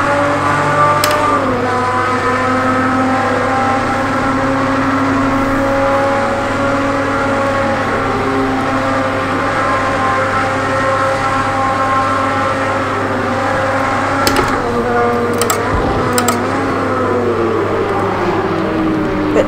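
A race car engine in Project Cars 2 holds a loud, steady high-revving drone throughout, with slight pitch shifts and a few brief clicks near the end.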